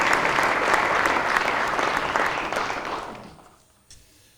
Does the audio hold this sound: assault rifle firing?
no